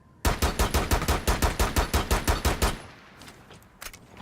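A long full-auto magazine dump in Rainbow Six Siege, about a dozen loud, evenly spaced shots in a steady rhythm that stop abruptly, followed by a few faint clicks and rattles.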